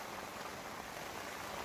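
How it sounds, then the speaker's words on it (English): Rain patters steadily on a bivvy tent at a reservoir carp fishing camp at night, a soft, even hiss with no talk. "nothing beats the noise of the rain hitting the bivvy"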